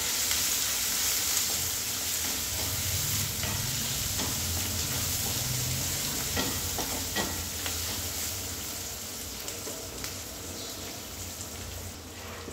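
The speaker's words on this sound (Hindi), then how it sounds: "लहसुन, 2 सूखे लाल मिर्च और जो मूंगफली ली थी वो भी हम डाल देंगे और इसे अभी हम चलाएंगे" Garlic, dried red chillies and peanuts sizzle and crackle hotly in a pan while being stirred, a dense steady frying hiss with light scraping, gradually easing slightly toward the end.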